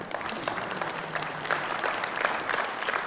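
A political party conference audience breaks into continuous, evenly dense applause and cheering, a full hall of clapping hands held steady for several seconds.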